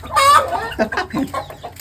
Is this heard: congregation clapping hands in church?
no